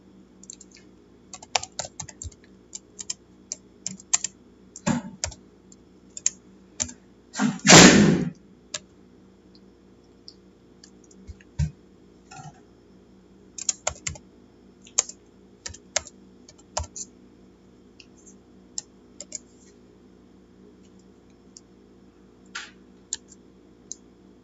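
Code being typed on a computer keyboard: irregular bursts of close, crisp key clicks over about 24 seconds against a faint steady hum, with one louder clattering thump partway through.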